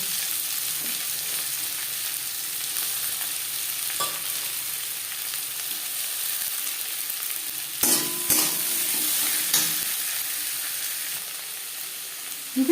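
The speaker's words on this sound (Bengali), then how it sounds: "মাছ ভেজে নেওয়ার তেলে দিয়ে দেবো পেঁয়াজ" Onions frying in oil left over from frying small fish, a steady close sizzle with stirring scrapes and a few sharper clatters near the end, no talking.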